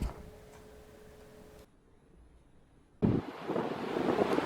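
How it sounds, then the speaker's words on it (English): Wind gusts at the Sitka fish hatchery off Green Lake Road in Alaska, a quiet lull before a sudden loud, roaring blast that buffets the microphone. "The wind is really starting to howl here right now."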